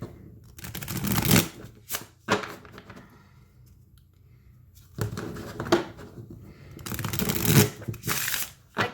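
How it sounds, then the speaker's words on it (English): Trimmed Halloween tarot cards shuffled in two quick bursts of riffling and flicking, with a quiet pause between, close up and fairly loud. "give them a little shuffle so we can see what they look like"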